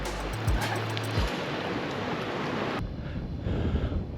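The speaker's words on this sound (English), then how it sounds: "The wind is blowing offshore." Offshore wind blows at the coast. Steady broadband wind rush and microphone buffeting mix with a surf-like wash, with a few low thumps, and the noise eases slightly near the end.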